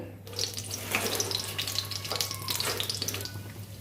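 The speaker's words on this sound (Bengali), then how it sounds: "একটু জল গরম দিয়ে দিচ্ছি ডালে" Hot water pours into thick, cooked-down dal in a pot, giving a steady, close splashing rush with a little bubbling throughout. No voices are heard.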